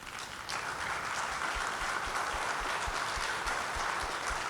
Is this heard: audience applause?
yes